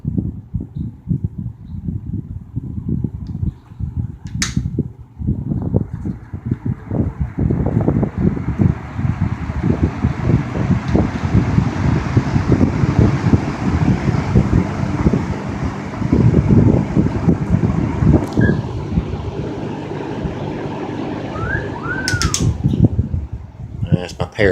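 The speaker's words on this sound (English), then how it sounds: "This particular fan is one of those that it takes it a little while to get up to speed," A 1950s GE F11W7 box fan, well oiled, slowly winding up to speed with a whooshing, rumbling airflow that builds and holds, someone talking over it and a few high parrot whistles near the end.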